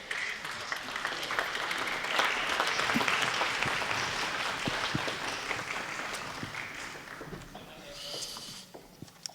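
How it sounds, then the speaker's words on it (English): Conference audience applauding as panelists walk out and take their seats, a sustained roomful of clapping that swells and then gradually thins out toward the end, with faint voices underneath. "let's just give them a round of applause as they come out and take their seats"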